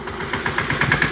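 A tractor engine idles at a threshing floor while unloading harvested sorghum, a loud, close, steady throbbing chug with gentle rhythmic pulses and no talk.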